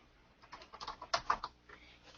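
Keystrokes on a computer keyboard, a short, irregular run of soft clicks at moderate distance, with a couple of louder taps in the middle.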